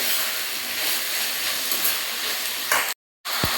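Chopped onions sauté with rock salt in a hot pan on a home stove, giving a steady, loud, close sizzle and hiss that drops out briefly near the end before a faint knock.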